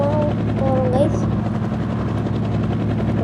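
A helicopter flying in the video game Indian Master Thief gives a loud, steady rotor chop throughout, with a brief voice-like tone over it near the start.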